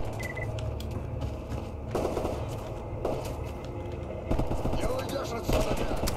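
Rapid automatic gunfire rattles through a firefight in the video game Stalker Anomaly, bursts repeating across the whole stretch with sharper, louder volleys near the end over a steady low rumble.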